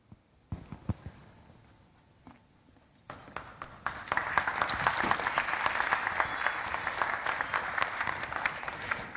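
An audience breaks into applause after a stage performance by the Trilok Sanstha troupe, starting with a few scattered claps and swelling into steady, moderately distant clapping from the crowd.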